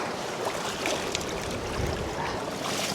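Knee-deep water churns and sloshes continuously as someone wades along the Welsh coast toward Paviland Cave, a dense, close, steady splashing with no talking.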